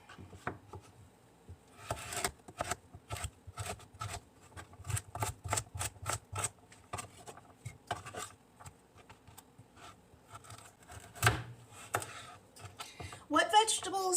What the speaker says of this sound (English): I do like to cut this into pretty small pieces